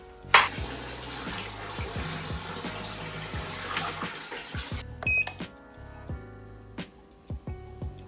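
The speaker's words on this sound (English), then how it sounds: "So to start with, I'm just gonna fill up with 24 liters." Water runs into a Grainfather brewing system being filled to 24 liters, a rushing pour joined by clicks and knocks near the middle, ending in sparse clunks.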